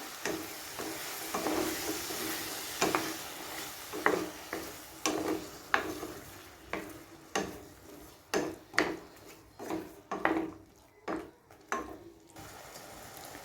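A spoon stirs mushroom pulao after half a cup of yogurt goes into the pan, giving rhythmic, repeated scraping strokes about every second over a faint sizzle, close up with no voices.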